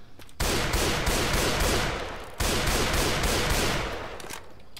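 Military rifle fire in a modded Left 4 Dead 2, heard as two loud, dense bursts of rapid shots, each rolling on for about two seconds with a reverberant tail and no talking.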